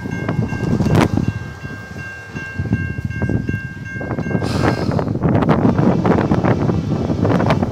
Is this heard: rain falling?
no